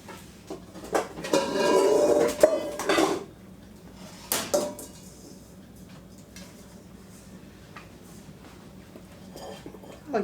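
A big mixing bowl is set down and handled in a kitchen while a taco coleslaw is being made, giving a few loud clattering, scraping knocks early on, then quieter bumps and clinks. Brief speech is heard.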